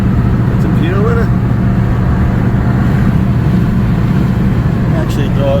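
A Holden HQ Monaro cruises along the road, its engine a steady, loud low drone with continuous road noise throughout, and a few faint higher whines now and then.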